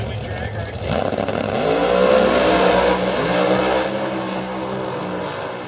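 Drag racing car launching down the dragway at The Bend during the Spring Nationals, its engine rising loud and rough as it accelerates hard, then easing off toward the end of the run while a commentator talks over it.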